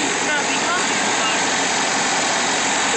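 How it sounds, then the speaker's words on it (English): A 1987 short box truck with a 350 engine idling, a loud, steady, even rumble that holds without change throughout. "It's 350 engine."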